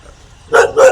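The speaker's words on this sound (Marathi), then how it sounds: "कुत्रे का मागे लागते जास्त." A dog gives two quick, loud, close barks in succession after a brief quiet moment.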